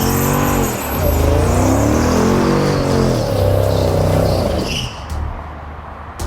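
A McLaren 650S Spider engine revs hard while spinning its tires, loud rising and falling engine tones close by for several seconds, then cutting off to quieter background with a few clunks.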